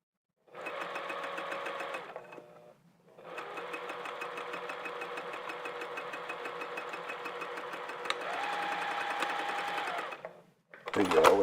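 A sewing machine stitches a seam back and forth to lock it, running in steady mechanical bursts with a short pause and a change in pitch near the end. It sits loud and close, with no talk over it.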